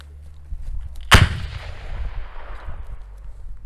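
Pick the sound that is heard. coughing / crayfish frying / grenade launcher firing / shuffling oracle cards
grenade launcher firing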